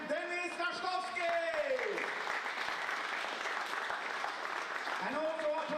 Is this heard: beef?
no